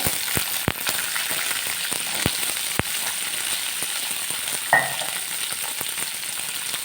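Onion and garlic hit hot oil with cumin seeds in a pan, making a continuous frying crackle with sharp pops and scraping stir strokes, close and fairly loud, with no voices.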